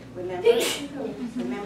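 A single quick sneeze bursts out in the middle of someone talking, with speech continuing right before and after it.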